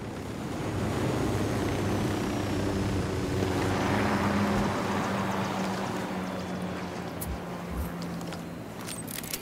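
A recon drone flying over an airstrip in a video game, a steady droning propeller hum that holds at a constant level over a wash of wind-like noise, with a few brief thumps near the end.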